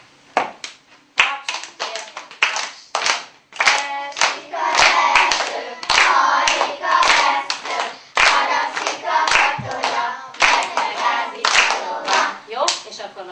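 Rhythmic hand clapping by a first-grade school class, children clapping a song rhythm in unison in a classroom, with sharp repeated claps in patterned groups and some singing or voices mixed in.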